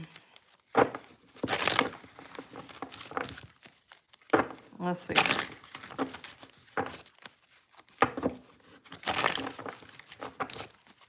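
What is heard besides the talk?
shuffling cards for a reading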